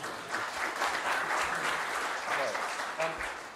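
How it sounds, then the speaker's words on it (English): A conference audience applauds after a software demo, moderate and steady clapping that fills the whole stretch, fairly distant, with a voice faintly mixed in. "You can applaud if you like."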